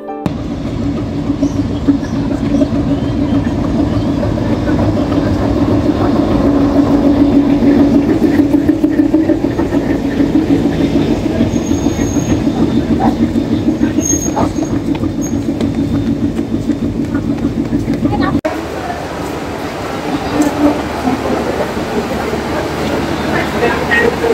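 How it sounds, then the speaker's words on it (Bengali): A Mongla commuter train hauled by a 65-8 series locomotive rolls into Singia railway station with a steady low rumble and engine drone, wheels clattering faintly, the noise easing near the end. "5 মিনিট বিলম্বে প্রবেশ করছে সিঙ্গিয়া রেলওয়ে স্টেশনে মংলা কমিউটার ট্রেন"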